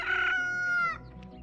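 A single rooster crows once, loud and close, its call rising then trailing off briefly.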